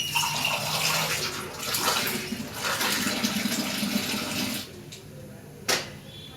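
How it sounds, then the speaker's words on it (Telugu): Another glass of water poured into a pan, giving a few seconds of steady splashing up close, then quieting to a faint hum broken by a single light clink. "నెక్స్ట్ ఇంకొక గ్లాస్ పోసుకున్నాం."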